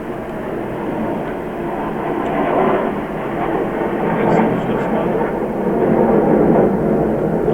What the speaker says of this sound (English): That plane was ridiculously loud.